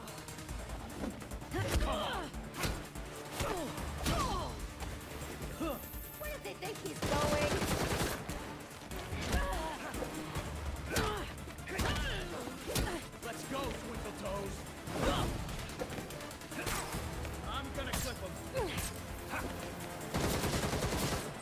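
Gunfire in the video game Gotham Knights: scattered bursts of shots and rapid fusillades mixed with impacts and crashes, mid-distance, under frequent commentary talk.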